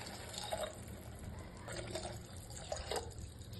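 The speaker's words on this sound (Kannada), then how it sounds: "2 ಗ್ಲಾಸ್ ವಾಟರ್ ಆ್ಯಡ್ ಮಾಡ್ಕೊತಾ ಇದ್ದೀನಿ." Two glasses of water are poured into a pressure cooker over fried rice for egg biryani, a quiet, steady splashing trickle with a few louder gushes.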